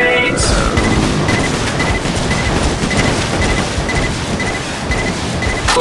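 Grenade blasts in the video game Age of Zombies, a dense, loud barrage of booming explosions and crackling bursts that runs without pause, with an electronic blip recurring over the rumble.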